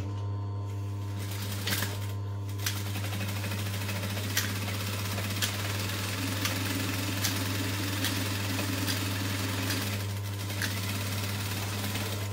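A sewing machine runs steadily, stitching a zip onto a backpack lining piece, with a continuous close mechanical hum and faint rattling throughout and no pause in the motor.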